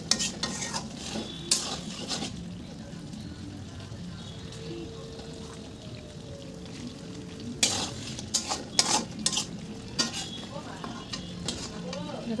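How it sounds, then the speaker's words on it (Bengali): Chicken being sautéed in a home kitchen pan gives a steady low sizzle, with a utensil scraping and clinking against the pan in bursts around the middle and end. "দেন একটু কষাবো, আর একটু কষিয়ে তারপরে নামিয়ে ফেলবো"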